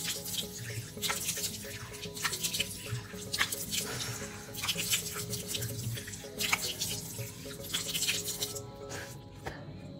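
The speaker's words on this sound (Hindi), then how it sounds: "अब मैं अपना फेस धो लेती हूँ।" Running tap water splashes steadily into a sink as a woman washes her face, with bursts of splashing and dripping throughout, close and fairly loud, no talking.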